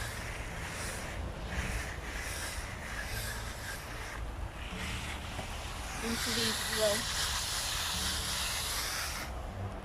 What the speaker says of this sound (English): So I'm just going to give it a dousing of water.